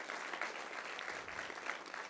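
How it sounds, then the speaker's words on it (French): A crowd claps steadily in a dense burst of applause, moderately distant, with no voices standing out. "On peut les applaudir."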